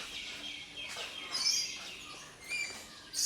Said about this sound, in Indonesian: Ini ada burung kayaknya ini lovebird ya.